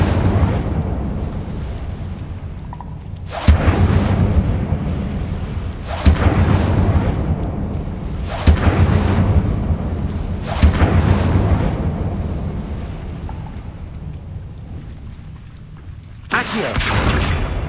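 Incendio fire spell blasts in the wizarding game Hogwarts Legacy, a series of about six loud whooshing fiery bursts at roughly two-second intervals, each with a sharp onset and a roaring tail fading into low ambience.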